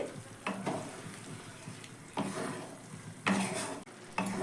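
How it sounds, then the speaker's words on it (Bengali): Fried egg bhujia is stirred into a simmering curry with peas, producing soft scraping and stirring strokes over a gentle sizzle, with a few brief louder bursts. "ভেজে রাখা ডিমের ভুজিয়াটা ভালো করেই আমি মিশিয়ে দিচ্ছি"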